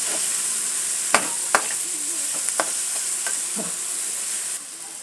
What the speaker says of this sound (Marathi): चवीनुसार मीठ असं छान असं लालसर होईपर्यंत परतून घ्यायचं